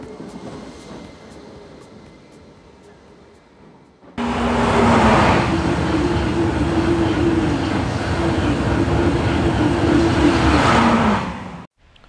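Faint rumble, then a Southern Class 313 electric passenger train between Seaford and Brighton rolls by loudly for several seconds with a steady mechanical hum and rattle before cutting off abruptly.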